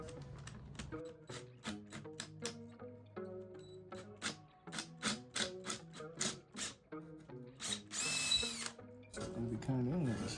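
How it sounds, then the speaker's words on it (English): A power drill bores into hard quarter-sawn oak on a Victorian buffet backsplash, its motor whining in repeated short bursts with pauses between, close and loud, ending in a longer sustained grind. "Sometimes I wonder if these are the best drill bits to use."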